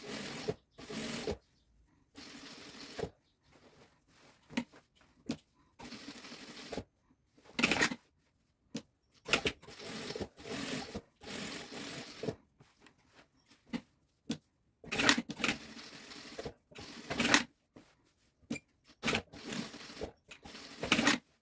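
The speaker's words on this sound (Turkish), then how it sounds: "Şimdi cebimizin etrafında çıma dikişi geçeceğiz şu şekilde." A sewing machine stitches around a trouser pocket on men's shalwar, running in short bursts separated by pauses, a quiet close mechanical whirring with brief handling noises between runs.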